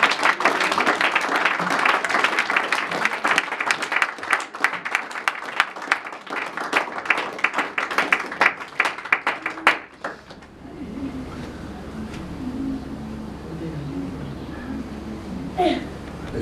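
A church congregation at a Sunday worship service claps together in fast, steady rhythm for about ten seconds, then the clapping stops, leaving quieter room murmur and talking.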